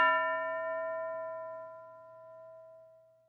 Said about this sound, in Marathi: घंटा वाजली की एक मूल उभं राहील